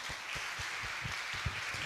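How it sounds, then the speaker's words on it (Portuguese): Applause at a gathering, a brief, fairly faint burst of clapping with a few low thumping beats under a steady hiss. "Salva de palmas."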